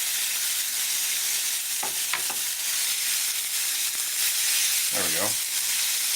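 About four fajita pieces go into a hot pan and sizzle loudly and steadily close by, with a brief spoken remark and a flare of crackling near the end.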